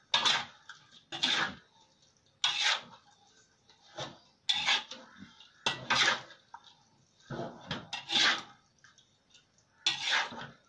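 Stir-fried water spinach with chili is tossed in a pan, with a utensil striking and scraping the metal about every second in short bursts separated by near quiet, close by, no speech.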